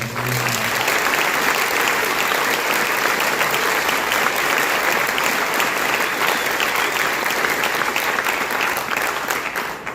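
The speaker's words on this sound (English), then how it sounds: "And I think that deserves a round of applause." An audience at a school band concert for grades 5 to 12 applauds steadily for about ten seconds, a dense, even wash of many hands clapping at once.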